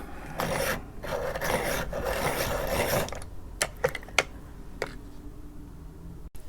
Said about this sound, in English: we're going to take a black and we're going to sharpen this quite a bit.